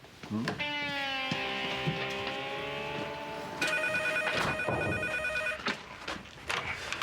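A telephone rings in a room, two clear electronic ring bursts in succession, loud and close, followed by brief rustling.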